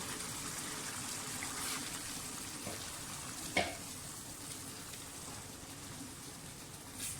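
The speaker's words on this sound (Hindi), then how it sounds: "अब जो मैंने सारी चीज़ों का पेस्ट बनाया है वो डाल दें और पकने दें" Beef karahi spice paste sizzles and fries steadily in a pan, with one brief clink of a utensil midway and no talking.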